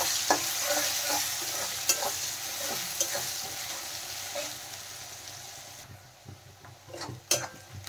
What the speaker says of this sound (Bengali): পেঁয়াজ হালকা ভাজা ভাজা করে নেব।